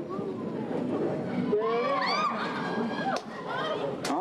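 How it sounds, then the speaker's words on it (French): Oceanographer team at an aquarium cheering and clapping for a newborn female orca, loud excited shouts and whoops over a busy crowd, with voices talking amid the celebration. "des cris et des applaudissements pour saluer ce beau bébé"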